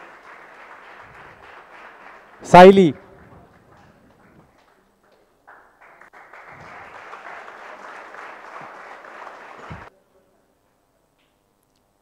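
Crowd applause for winners at a project prize distribution comes in two stretches of steady clapping, split by a loud spoken name and a brief lull before the second round fades out.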